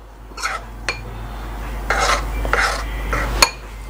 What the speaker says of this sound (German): Die gebe ich jetzt einfach dazu. Verrühre das alles.